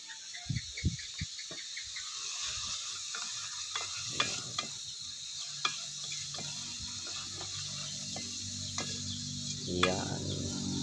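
Ginataang labong with shrimp stirred in a pan: soft intermittent scraping and clinks with a few sharper knocks over a low simmering hiss, fairly quiet and close.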